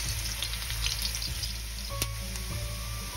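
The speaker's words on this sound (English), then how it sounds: "just let that cook until it's a nice golden brown" Sliced garlic and ginger fry in a pan while an eggplant sambal is being cooked, making a steady, close sizzle with a few light clicks and a hiss that runs through without any talk.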